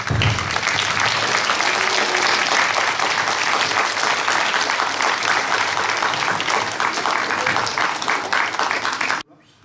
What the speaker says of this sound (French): Je vous demande d'accueillir et d'applaudir Alain Chapuis et Marie Blanche.